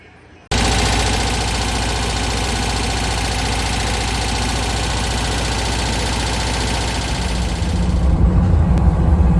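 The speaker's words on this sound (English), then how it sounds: "let's fire it up, take it out, see how she does" A Porsche 912 engine, not started in over 25 years, cranks and catches abruptly, then runs at a steady loud idle with a rough rapid pulse, rising slightly toward the end.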